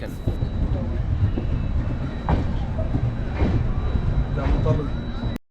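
A train rolls into platform three at Jammu Tawi station with rhythmic clickety-clack of wheels over rail joints, a steady rumble with muffled voices in the background.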